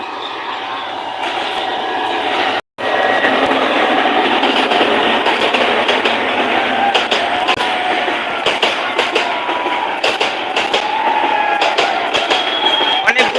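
Loud, continuous rumble and rattle of a train rolling past up close, with rhythmic clacking of wheels on track throughout and a brief dropout early on.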